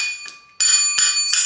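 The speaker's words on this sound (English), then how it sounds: "It's a bell." A bell rung in a home bar: about four bright, ringing metallic strikes spaced through the moment, each leaving a sustained shimmering tone, close and fairly loud with no voices.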